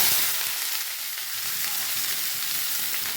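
Sliced onions and tomatoes hit hot coconut oil in a pan, producing a loud, dense, steady sizzle that hisses continuously without any talking.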